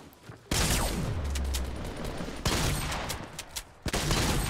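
Dense bursts of Fortnite gunfire fill the clip, a rapid fusillade of close, loud shots that breaks off briefly and resumes twice, with no talk over it.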